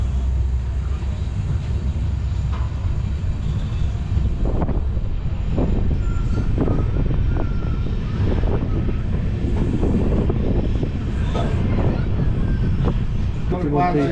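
The Murkong Selek–Rangiya Express rolls into a station on a single-line track, a loud continuous rumble with rattling wheel clatter and wind buffeting, while voices talk nearby.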